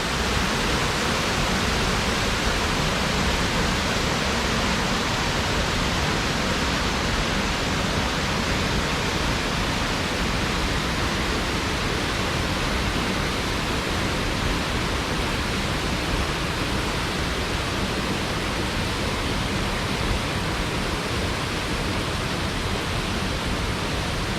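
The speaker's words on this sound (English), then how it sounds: "This is the last waterfall on the hike here." Waterfall in Ketchum Run Gorge, Loyalsock State Forest, a steady, loud rushing roar of falling water filling the whole span without variation or voices.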